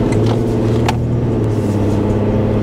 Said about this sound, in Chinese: 在座舱里可以听到一些发动机的声音啊，但是还是挺平顺的。